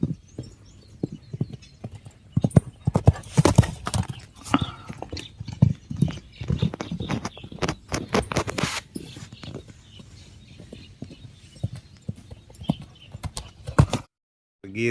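A running horse's hooves clatter in irregular bursts of thuds and clip-clops, fairly close, with rustling and occasional voices mixed in before things quiet toward the end.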